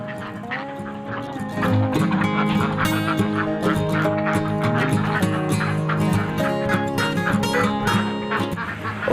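Egg-laying ducks at peak production crowd a farm pen, a dense, continuous chorus of overlapping quacks and honking calls, loud and close throughout, with music underneath.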